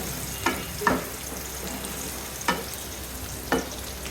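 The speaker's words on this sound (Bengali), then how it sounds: "পেঁয়াজটা ভালো করে ভেজে নিব তার মধ্যে দিয়ে দিব এখন একটা তেজপাতা দারচিনি এলাচি ভালো করে" Onion frying in oil with bay leaf, cinnamon and cardamom, a soft continuous sizzle broken by four distinct spatula scrapes against the pan, no speech.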